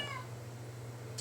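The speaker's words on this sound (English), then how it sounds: "you can hear my cat meowing over there" A house cat gives a short, faint meow for attention somewhere away from the listener, heard in an otherwise quiet indoor room with a low steady hum.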